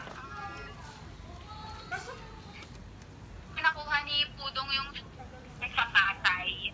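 A telephone call rings over a phone's speaker, its tones sounding at the start before louder voices talk over the line in the second half.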